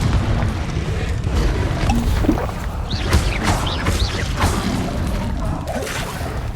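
A Confringo blasting curse explodes in the Hogwarts Legacy video game, heard as a continuous loud rumbling boom with repeated whooshing bursts layered through it.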